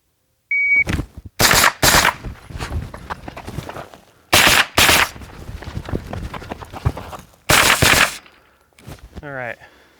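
Pistol caliber carbine fired with 100-grain ammunition at a shooting range during target practice: bursts of sharp, loud shots in quick pairs and strings, separated by pauses with clattering handling noise and a brief beep.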